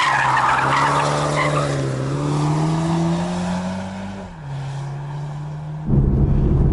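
Tires of a 2020 Toyota Supra 2.0 squeal under hard braking on a winding mountain pass, a loud sustained screech with a wavering pitch, followed by the engine surging back up as the car pulls out of the bend.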